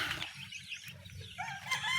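Chickens cluck and squawk close by in short bursts, with light rustling and fluttering in between.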